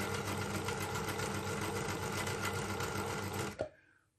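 Sewing machine runs with its drive shaft coupled to the handwheel and motor, a steady loud mechanical whir that stops abruptly near the end, followed by a brief clunk and fading hum.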